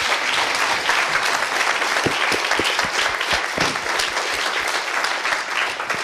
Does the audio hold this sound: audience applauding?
yes